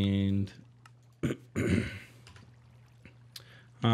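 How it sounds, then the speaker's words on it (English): Throat clearing from a man voicing a Minecraft modpack playthrough: several short, harsh bursts close to the mic, separated by pauses, over a steady low background hum. "I keep having to clear my throat"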